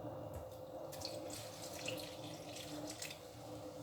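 Water running and splashing into a bowl of dough mixture while making pão com chouriço, a soft continuous trickle with faint drips, fairly quiet against a low steady kitchen hum.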